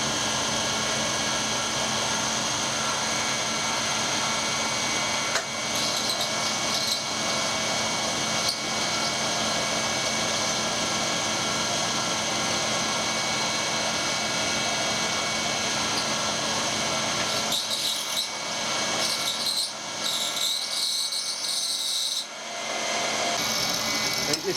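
A carbide milling cutter spinning at 3,500 RPM cuts a keyway in steel for a steam locomotive part, a steady high machining whine running continuously before dropping away near the end; a voice talks over it.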